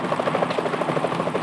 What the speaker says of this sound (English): Is that a chopper I just heard?